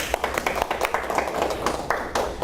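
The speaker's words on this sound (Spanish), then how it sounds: "un aplauso para el profesor" Sparse applause from a small audience greets a professor at a lecture on radiation protection in medicine, a few distinct, uneven claps standing out at fairly low volume.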